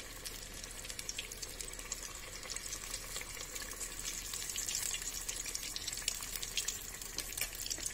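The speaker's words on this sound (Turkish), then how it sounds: "İyice kızartalım." Steady, dense sizzling and crackling of Turkish patile dough frying in plenty of hot oil, continuous and close throughout, with no voices.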